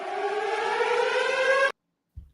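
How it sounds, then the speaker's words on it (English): An air raid siren wails as a loud, steady, slightly rising tone for under two seconds, then cuts off abruptly into silence, followed by a faint thump. "The air raid sirens."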